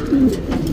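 A male Sabza pigeon of the Anari line gives a short, close, low coo, alone without any talk.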